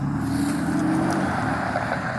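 Steady roar of cars and big trucks passing on a nearby road, a continuous loud wash of tire and engine noise with no talking.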